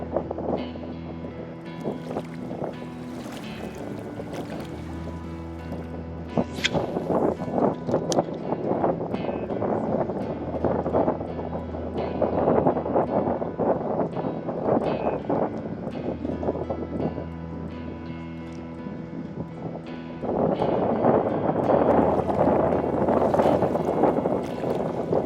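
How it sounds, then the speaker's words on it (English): Wind gusts steadily over a flooded saltwater marsh grass field, a continuous roaring rush buffeting the microphone, growing stronger toward the end. "The wind's getting me."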